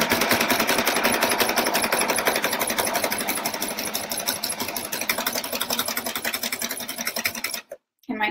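A sewing machine stitches steadily through thick, layered oven mitt fabric with a fast, even mechanical rattle, close and loud, then stops abruptly near the end.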